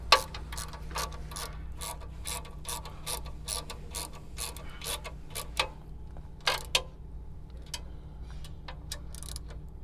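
Ratchet handle on a 1/4-inch extension tightening a bolt with lock washer while installing a log lifter kit on a 2265 log splitter; quick bursts of close, loud clicking repeat in uneven runs across the span, with no talking.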